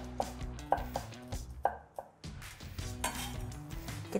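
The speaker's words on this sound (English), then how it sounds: "Finely chop." Fresh garlic cloves finely chopped with a knife on a board, a quick irregular series of sharp close taps and knocks, loud and alone with no talking.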